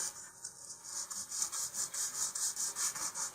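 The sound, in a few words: sanding model rocket part on sandpaper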